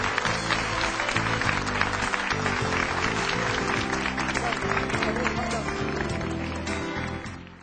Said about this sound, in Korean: 다시 한번 좋은 강연해주신 박석주 원장님께 뜨거운 박수를 부탁드리겠습니다.